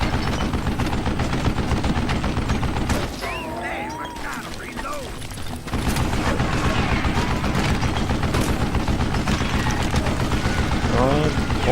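Rapid gunfire from a Gatling gun in the Western video game Call of Juarez, loud and continuous with dense repeated bursts, briefly pausing before resuming under game effects and someone talking.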